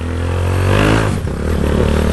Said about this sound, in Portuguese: Entra a terceira, mas a moto volta.